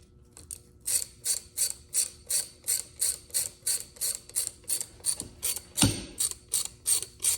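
A hand ratchet winds out a stuck bolt during work on a CRX, giving a close, even series of sharp clicking bursts at a steady rhythm of about two per second, with a brief clunk near the end.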